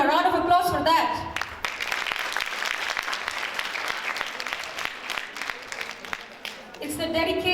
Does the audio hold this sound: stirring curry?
no